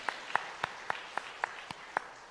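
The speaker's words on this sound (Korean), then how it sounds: "우리 박수로 환영하겠습니다" A small round of applause at a church service: about eight sharp, evenly spaced hand claps, fairly quiet, with no other sound between them.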